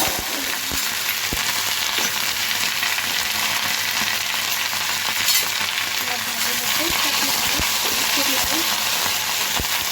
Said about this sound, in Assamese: নৰসিংহ পাত এনেকৈ লৈছোঁ ভাজি চাটনি বনাওঁ